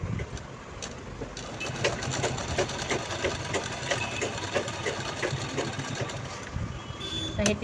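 Sewing machine stitching fabric for a lunch bag made from leftover dress cloth, a close, fast, continuous mechanical rattle running throughout with faint background noise.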